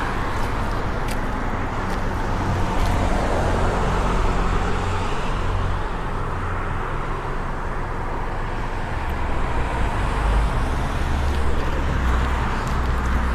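Ford Transit van cruising on a highway up to Los Alamos, New Mexico, a continuous cabin drone of engine and road noise with steady tyre rumble.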